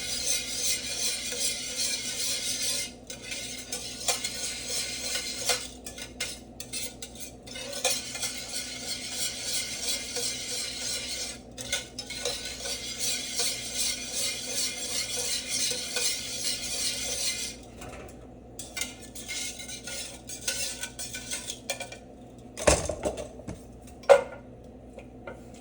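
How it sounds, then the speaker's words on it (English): Cold butter being stirred into a red wine sauce in a pan, with soft repeated scraping and clinking of a utensil in a light sizzle, broken by brief pauses and a couple of sharper knocks near the end. "we're going to stir in our cold butter"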